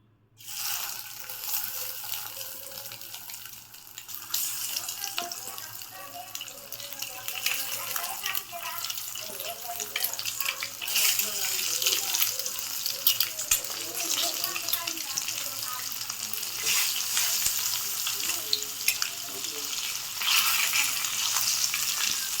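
Five sliced boiled eggs fry in oil over a low flame for a spicy egg pepper gravy, with a steady close sizzle and occasional stirring scrapes under a voice talking.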